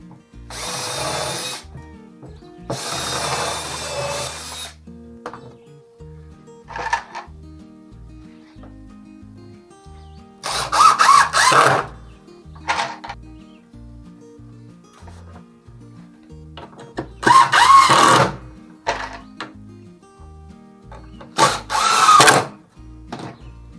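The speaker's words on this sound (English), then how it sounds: "So we're going to put some pilot holes in here." A power drill bores pilot holes into a 2x4 board in several short, loud bursts of whirring and chewing through wood, separated by quieter gaps with faint handling noise.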